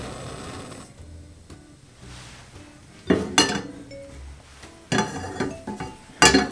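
A small pan is set down on a stovetop in a home kitchen for making ginger biscuits, giving a few sharp metallic clanks and clinks in separate bursts over quiet room tone.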